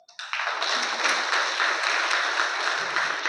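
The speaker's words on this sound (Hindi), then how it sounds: "इन आप 10 बच्चों के लिए आप सब लोग ताली बजाओ।" Classroom of schoolchildren applauding together, a dense, steady wash of many hands clapping that starts abruptly and holds loud and close throughout.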